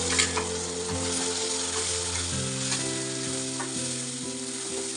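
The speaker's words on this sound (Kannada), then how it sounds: "ರುಬ್ಬಿರೋ ಅಂಥ ಮಸಾಲೆನ ಹಾಕ್ಕೊಂಡು ಫ್ರೈ ಮಾಡ್ಕೊಳ್ಳೋಣ" Ground masala sizzling and frying in oil in a pan while making curry leaf chitranna, a steady dense crackle close up, with a low hum running beneath it.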